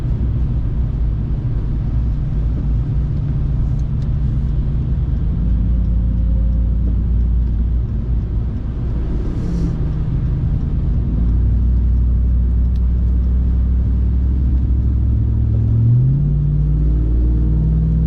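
A Ram TRX pickup truck drives along a snowy road in traffic, its engine giving a steady, loud low rumble throughout with slight shifts in pitch as it accelerates, with no voices present.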